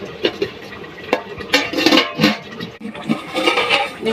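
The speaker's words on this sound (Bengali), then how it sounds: "এবার আমি এখানে অল্প একটু জল দিয়ে দেবো আলুটা সেদ্ধ হওয়ার জন্য" Water poured over potatoes in a cooking pot for boiling, an uneven splashing and clattering with bursts of sloshing and scraping against the pot, fairly close.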